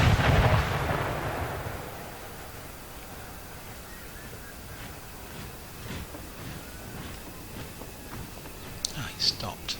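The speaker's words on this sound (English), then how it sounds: "let's get a bit more accurate with our artillery." Artillery fire in the strategy game Empire: Total War sounds as a heavy boom at the start that rumbles off into distant battlefield noise, with scattered faint thuds and a few sharper cracks near the end.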